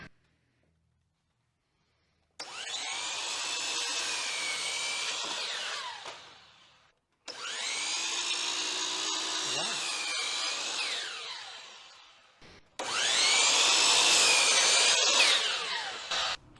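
Walnut board being cut to length for a pizza peel handle with a power saw, three loud sustained cuts separated by short pauses, each cut whining steadily and then tapering off as the piece comes free.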